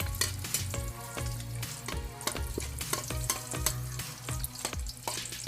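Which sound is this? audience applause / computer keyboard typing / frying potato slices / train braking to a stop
frying potato slices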